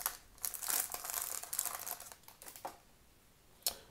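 Crinkling and tearing of a football trading card pack wrapper from a 2020 Mosaic hanger box, a run of close crackly rustles for about three seconds, then a short final crinkle.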